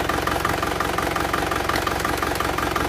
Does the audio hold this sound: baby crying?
no